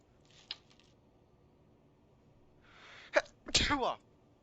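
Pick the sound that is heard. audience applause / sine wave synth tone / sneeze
sneeze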